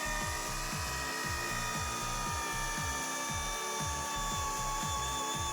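Rotary polisher buffing a boat's oxidized gelcoat with liquid abrasive, giving a steady loud mechanical whir with a repeating rhythmic pulse throughout.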